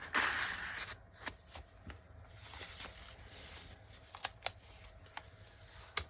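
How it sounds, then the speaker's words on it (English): Crinkly yellow see-through paper being handled and folded close up, with soft crackling rustles and scattered sharp crinkles and snaps against a quiet background. "It's that yellow, crinkly, you can see through it paper."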